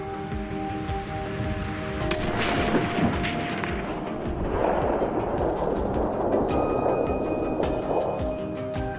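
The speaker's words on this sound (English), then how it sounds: "With a single shot, the wild boar instantly collapsed on the snow." A single hunting-rifle shot fired at a wild boar on snowy ground, one sharp broadband report around the two-second mark followed by a long rolling decay over steady outdoor background noise.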